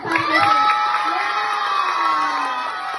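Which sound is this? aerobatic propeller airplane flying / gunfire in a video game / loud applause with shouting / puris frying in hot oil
loud applause with shouting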